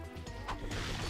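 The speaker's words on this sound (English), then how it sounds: "this is the introduction of TNT barrels." TNT barrels blowing up in the Ratchet and Clank video game: loud layered crashes and bursts, with a sharp smash midway and a heavier rumbling blast toward the end, steady and close.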